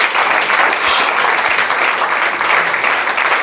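A church congregation claps steadily and loudly for several seconds, a dense, continuous wash of hands with no voices standing out.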